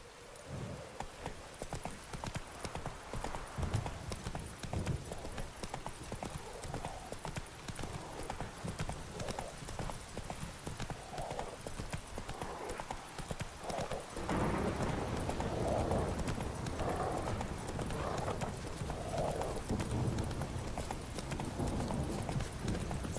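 Roach, a horse in The Witcher 3, gallops with steady, fast clip-clop hoofbeats on the ground. A faint whinny and a patter like light rain sit under them, and the hooves grow louder and fuller partway through.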